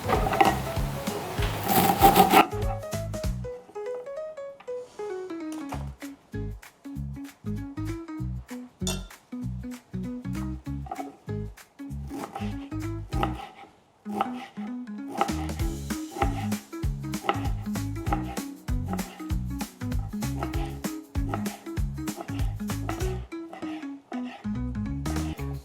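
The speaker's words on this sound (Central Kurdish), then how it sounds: "ئێستا دەستەکەم بە وردکردنی شبیتەکەشم" Rapid, steady knife strokes chopping fresh dill on a wooden cutting board, a dense run of close, crisp taps with a short pause around the middle, no talking.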